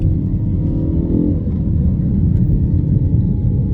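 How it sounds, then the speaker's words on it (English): A Ford Focus on Pilot Sport 4S tyres is driven hard along a tarmac rally-style road, its engine droning loud and steady with a dense low rumble throughout, close up and with no talk over it. "Really rev the car out."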